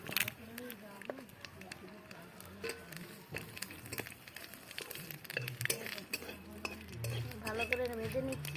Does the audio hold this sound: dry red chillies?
yes